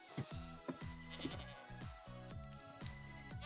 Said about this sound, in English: Oh, goats.